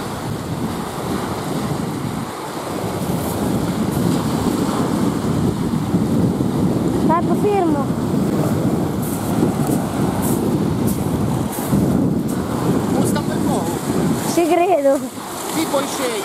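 Sea waves breaking at the mouth of the Musone river on an August day, a steady broad wash of surf with wind buffeting the microphone, while people talk over it.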